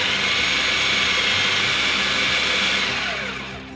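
A food processor pulses scone dough of buttermilk and chunky butter bits, giving a loud, steady motor whir that runs unbroken for several seconds before easing off near the end.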